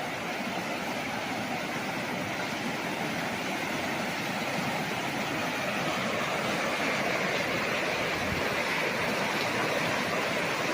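Steady broadband rush of river water flowing past a resort cottage in Cavinti, Laguna, a continuous close wash of moving water with no voices.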